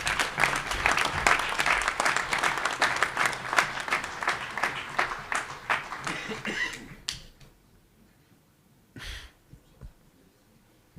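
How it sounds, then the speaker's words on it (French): An audience applauds at a mayor's New Year ceremony in Valgelon-La Rochette, France: dense, close clapping for about seven seconds that then fades, followed by near silence and one brief burst of noise. "Et on les applaudit."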